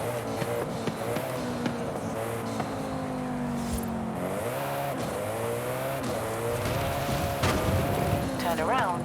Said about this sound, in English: Koenigsegg.